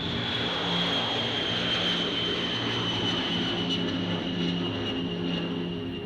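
A large, heavy US bomber takes off, its engines producing a loud, steady roar with a droning hum that fills the whole stretch without a break and with no voices.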